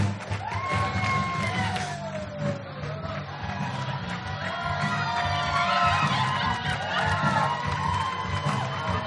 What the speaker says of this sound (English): please give a great big round of applause to Matt's dad